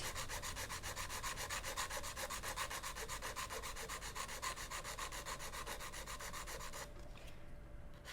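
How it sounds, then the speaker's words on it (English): A hand file rasps rapidly back and forth across square acrylic nails, a close and quiet scratchy rubbing that keeps an even rhythm and stops abruptly near the end. "making square sculpting is very good practice because you need to file all the side into straight"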